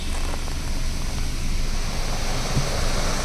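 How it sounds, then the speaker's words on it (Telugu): Steady, loud broadband roar of a waterfall rushing through Vazhachal forest, a constant wash of falling water filling the whole stretch with no pauses and no voices. "ఈ వాటర్ ఫాల్స్ సౌండ్స్."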